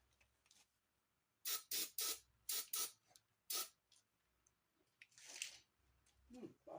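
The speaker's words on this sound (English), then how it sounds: "Let me grab some brake clean or carb cleaner, and we'll hit these really quick." Brake cleaner or carburetor cleaner sprayed onto parts of an old Ford Model A, in several short hissing bursts of differing length, close and fairly loud, with quiet gaps between them.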